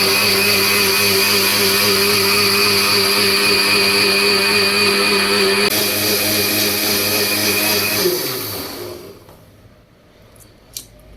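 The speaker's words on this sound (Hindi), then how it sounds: "अब इसमें मलाई शामिल करती हैं और इसे 2 मिनट के लिए ग्राइंड करेंगे" A kitchen blender grinds cream into homemade butter with a loud, steady motor whir that holds for about eight seconds, then winds down and cuts off into near silence, followed by a faint click.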